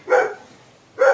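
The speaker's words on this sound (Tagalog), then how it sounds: "the barking of the dogs" Dogs near a beach give two short, clear barks about a second apart, fairly close, with little else around them.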